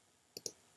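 A computer mouse gives two quick, crisp clicks in close succession, faint and near, with quiet around them.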